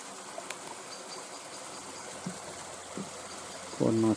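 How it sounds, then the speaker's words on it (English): A waterfall stream in New Zealand native bush makes a steady, continuous rush of water, with faint insect chirps and a few small knocks over it, then a louder close rumble at the very end. "Quite a nice waterfall there."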